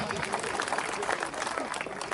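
Applause and crowd noise fill an outdoor political rally in Madhya Pradesh where a politician is speaking. The clapping is dense and steady for the whole stretch, with the murmur of the crowd mixed in.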